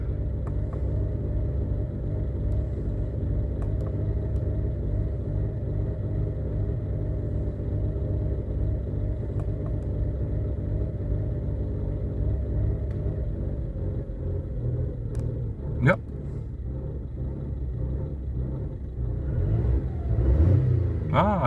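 Car engine idling after fault codes are cleared with an OBD2 scanner, a steady low rumble that stays even, then a brief sharp knock and a slight rise in revs near the end.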